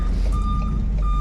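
Reversing beeps from a truck backing up with a salt spreader for de-icing a parking lot, a steady rhythm of high electronic tones over a low diesel engine rumble, heard from inside the cab.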